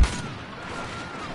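Blaster fire from a Star Wars Battlefront video game: a burst of sharp, fairly loud shots right at the start, followed by a sustained rumble of continued battle noise.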